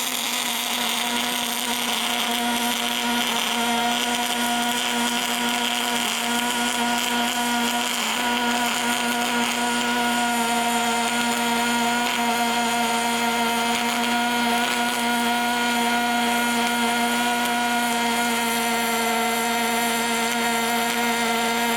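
MIG welding on a 1G flat-position test plate: a steady, continuous buzzing hiss with a constant tone, held unbroken and fairly loud, with no talking.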